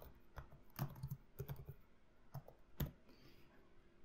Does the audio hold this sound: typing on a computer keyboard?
yes